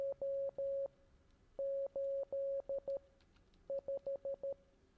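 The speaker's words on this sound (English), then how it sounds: "That's Morse code." Morse code beeps in the Curious Cases video game, a clean single-pitched tone keyed in long and short pulses, grouped into three separate bursts with short pauses between them.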